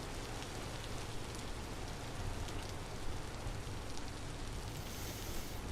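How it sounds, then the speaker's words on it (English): Steady rain falling at night in the modded survival game Vintage Story, an even broadband hiss of drops pattering on surfaces that holds constant throughout with no voices. "it's raining right now"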